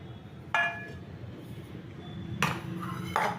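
Spoon clinking against a bowl while yogurt, semolina and powdered sugar are mixed for a chocolate semolina cake, a few sharp clinks spaced over quiet background.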